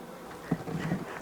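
A short, close buzzing of honeybees from a package colony on foundation rises and wavers, droning for about a second with no other sounds.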